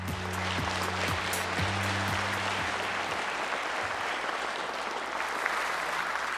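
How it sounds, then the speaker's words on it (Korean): Broad, steady applause from an audience at a government policy briefing, fairly distant and even, with a low droning tone fading out partway through. "큰 박수 부탁드립니다."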